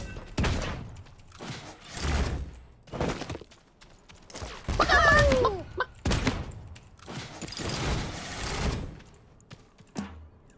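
Realm Royale gameplay gunfire, including a headshot, heard as a string of separate sharp bursts and impacts spread across several seconds with short gaps between them, some ringing and metallic.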